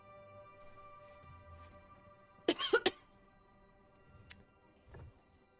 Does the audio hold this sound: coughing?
yes